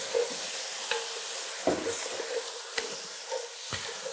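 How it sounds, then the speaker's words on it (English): Mushrooms stir in a hot pan while alcohol deglazes the browned bits, giving a soft continuous sizzle broken by scattered scraping strokes from the utensil, close and quiet. "I'm going to stir this about to get up some of these brown bits that are on the bottom of the pan"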